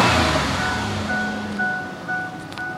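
A car engine with a newly fitted air filter runs steadily nearby, giving a continuous low rumble with a faint tonal whine and slight swells in level.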